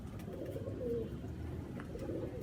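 Aseel pigeons, a pure old breed, cooing softly in a low murmur that stays steady and close throughout, with no talk over it.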